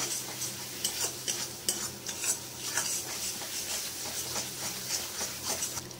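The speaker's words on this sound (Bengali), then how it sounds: "দইটাকে ভালো করে কষিয়ে নেব। এবার গ্যাসটা বাড়িয়ে দেবো।" Yogurt being sautéed in oil for a rohu fish curry sizzles quietly, with rhythmic scraping strokes of a spoon against the pan recurring every half second or so.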